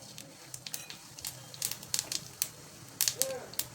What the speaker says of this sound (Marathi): मोहरी तडतडली त्यामध्ये जिरं घालायचे